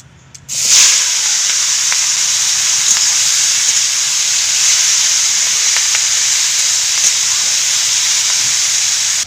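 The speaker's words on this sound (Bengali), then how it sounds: "তেল গরম হয়ে গেছে মেখে রাখা কাঁকড়াগুলো দিয়ে দিব" Marinated crabs slide into hot oil for a Bengali crab bhapa and erupt into a loud, steady sizzling hiss that starts abruptly and holds unbroken for several seconds.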